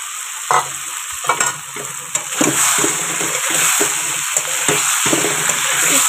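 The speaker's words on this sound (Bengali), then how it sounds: "মোটামুটি ভালো ভাজা হয়ে গেছে।" Potatoes and eggs frying in spices in a pan, a continuous close sizzle with scraping spatula strokes as the mixture is stirred, loud and steady throughout.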